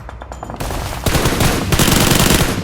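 Loud automatic gunfire in PUBG Mobile rattles out in rapid, close bursts that grow denser and heavier partway through, with no talk.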